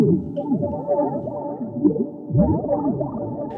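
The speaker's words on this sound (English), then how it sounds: "Now we've turned a vocal into weird, drippy, droppy textures." Warped, gurgling vocal textures resampled in the HALICA plugin, sliding and wobbling in pitch, with drippy, bubbling swoops heard alone and fairly loud.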